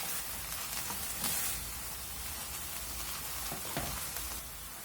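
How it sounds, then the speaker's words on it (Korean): Tofu stir-frying in a pan, a constant close sizzle and hiss with a few faint scrapes of stirring, steady and unbroken, with no voices. "두부를 나름 팬에서 볶아주세요"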